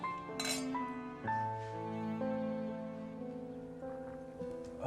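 Glasses clink together several times in a toast, bright ringing tones that hang and overlap, fairly close, with no talking.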